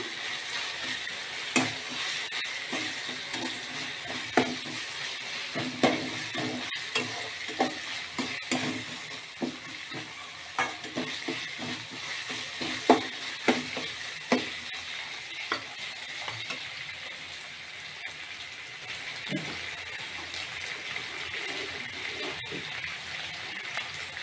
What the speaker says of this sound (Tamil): கொஞ்சம் இஞ்சி பூண்டு பேஸ்ட்டு இதையும் சேர்த்து நல்லா வதக்கிக்கலாம்